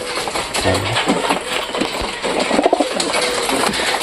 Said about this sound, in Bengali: সব কবুতরগুলো চলে আসছে খাওয়ার জন্য।